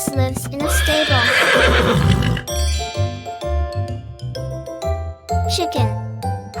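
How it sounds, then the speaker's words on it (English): A horse neighs in a children's animal-homes learning cartoon, one loud, long whinny near the start over cheerful jingling music, followed by a voice speaking. "A horse lives in a stable."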